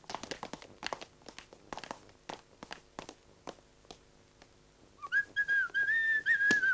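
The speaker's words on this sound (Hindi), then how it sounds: "अब तू सीटी बंद कर।" A person whistling in a Hindi movie scene, a sustained wavering tune that starts partway through, loud and close, after a stretch of steady footsteps and light rustling.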